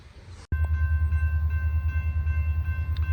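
A sudden loud, deep rumble as a freight train passes close by, continuous and heavy, with a thin steady whine ringing above it.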